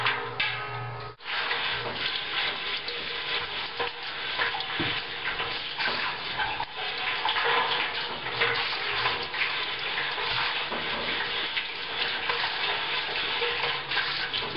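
Tap water running steadily into a sink used for washing beekeeping tools, a continuous close splashing rush with a brief clunk near the start.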